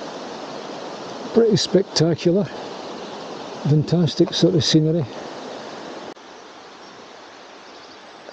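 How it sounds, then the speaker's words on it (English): Steady broadband rush of water running through a gorge fills the scene, with someone talking over it in two short bursts before the flow continues alone, slightly quieter. "there's lots of water, you can hear it running in the background."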